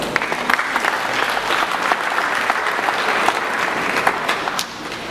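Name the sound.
graduates applauding themselves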